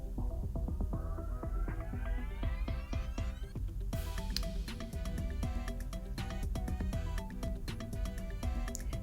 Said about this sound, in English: And then that is me blending my spices.